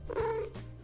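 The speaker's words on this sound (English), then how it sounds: "And I have a kitty" A pet cat vocalizes close up indoors, a short soft purr-like murmur with a brief rising trill lasting under a second, heard alone without talk.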